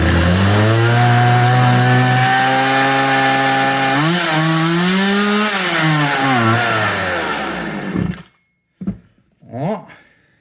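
A Craftsman chainsaw engine running loud and close with a buzzing, droning tone that holds, dips and climbs in pitch, then cuts out and sputters through a few brief failed restarts.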